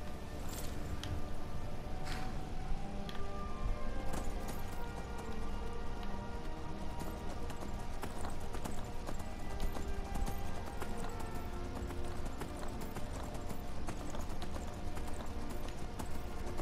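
Steady clip-clop of a horse's hooves in Skyrim, a continuous brisk rhythm of hoofbeats up close over a soft rain-like hiss, with an occasional faint whinny and no talking.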